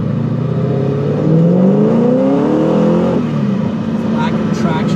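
A car with a Whipple supercharger and a Ford Performance exhaust revving up loud and close, the engine note climbing steadily with a rising whine before it drops back.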